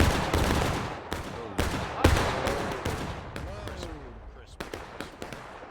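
Musket volleys from infantry units in a video game, a ragged string of sharp cracks fired one after another by several units, loud and echoing, with scattered follow-up shots trailing off.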